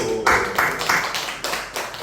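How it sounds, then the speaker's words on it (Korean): Rhythmic group clapping from a congregation in a Korean church service, a run of roughly six close, loud claps in a steady beat. "아멘! 박수!"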